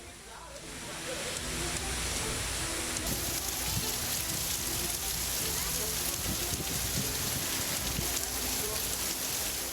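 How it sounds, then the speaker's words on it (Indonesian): Heavy rain falls in Maros, South Sulawesi, with hail and strong wind, a dense continuous hiss of downpour that stays loud and steady throughout, with no talking. "Hujan deras disertai angin kencang dan petir melanda seluruh wilayah di Kabupaten Maros, Sulawesi Selatan."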